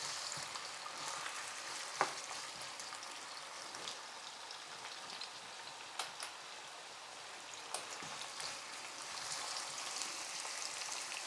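Garlic cloves and chopped onions sizzle steadily in a hot pan, a dense even crackle close to the microphone with a few light clicks of stirring; no speech.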